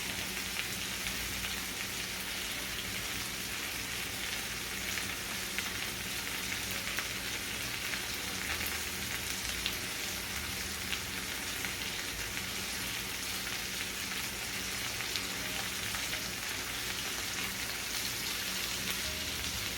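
Chicken fries in a shallow layer of olive oil in a pan, a steady dense crackling sizzle that holds evenly throughout with no talk.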